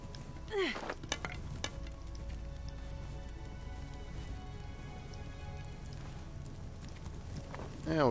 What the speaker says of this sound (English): And then we'll cook this meat.